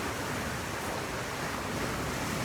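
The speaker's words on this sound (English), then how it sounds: "doing my best to speak loudly with all the sound of the crashing waves" Crashing ocean waves on a shore, a steady, loud broadband roar of surf filling the whole stretch with no break and no talking.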